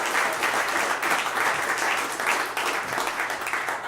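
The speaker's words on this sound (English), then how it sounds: "Let's give him another round of applause." A crowd at a political rally applauds in a thick, continuous round of clapping, close and fairly loud, holding steady for several seconds with a slight swell and fade and no speech over it.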